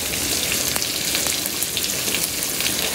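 Soybean-oil curry with potato and pointed gourd bubbling in a pan, a steady close sizzle and fry hiss with scattered pops throughout, no talking.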